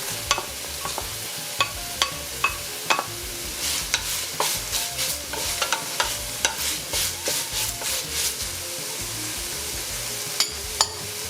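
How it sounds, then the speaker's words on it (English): Onion and chopped celery sauté in avocado oil in a pot, with a steady close sizzle and repeated sharp clicks and scrapes of stirring throughout, and no talking. "After 2 minutes of sauteing, I'm adding the chopped celery."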